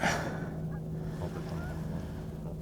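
Two geese honk outdoors near a lake. The calls come mid-distance and clear at the start, then trail into a low hum of background noise with no voices.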